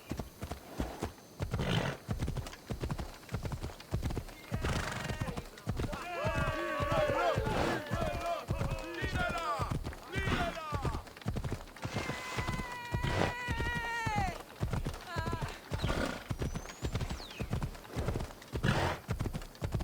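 Horse hooves in Assassin's Creed Odyssey pound out a steady, rapid clip-clop for the whole stretch, with whinny-like tonal calls rising over the hoofbeats midway.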